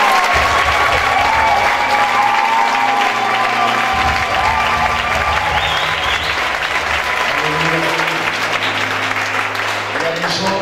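A church congregation applauding and cheering, dense sustained clapping that fills the whole stretch, loud and steady, with voices and music mixed underneath.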